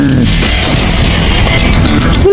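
Loud, dense barrage of rapid punching impacts from an anime Gomu Gomu no Gatling Gun attack, a continuous pummeling boom with a rising whistle-like tone at the start and end.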